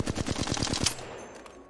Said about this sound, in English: if I take my flatline and I move in a circle like this while I'm shooting